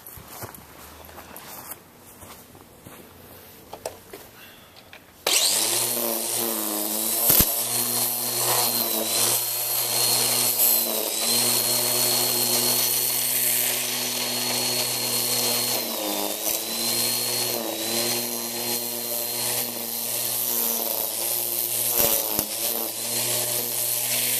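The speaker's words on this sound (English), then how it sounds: "this trimmer is not going to hurt this pole, so we can just keep doing what we need to do" A string trimmer cuts grass around a swing set pole on a home lawn: a loud, close engine whine that steadily runs with small pitch dips as the line bites, after a few seconds of quieter outdoor background.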